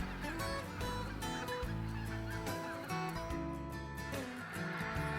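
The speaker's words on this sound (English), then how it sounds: "white-fronted geese are most likely to tumble when landing" Flock of white-fronted geese honking as they come in to land, a dense, continuous chorus of overlapping calls from many birds.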